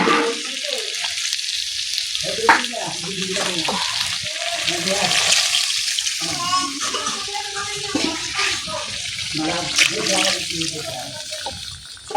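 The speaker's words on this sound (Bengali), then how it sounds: "এখন পরিমাণ মতো জল দিয়ে দেবো।" Water is poured into sautéed chicken curry in a hot pan, giving a rushing, bubbling sizzle that carries on with some stirring clatter. A voice can be heard faintly underneath.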